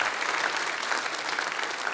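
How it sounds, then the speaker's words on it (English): Awards show audience in a large hall breaking into warm, dense applause, loud and continuous clapping from many hands with no talk over it. "give them a round of applause here."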